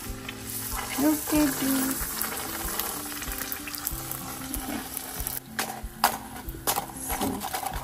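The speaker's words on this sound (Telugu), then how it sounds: "తొందరగా కలర్ వచ్చేయకుండా క్రిస్ప్ అయ్యేలాగా ఫ్రై అవుతాయి అన్నమాట" Panipuri puris frying in hot oil on a medium flame, a soft steady sizzle running under a person talking, with occasional stirring clinks.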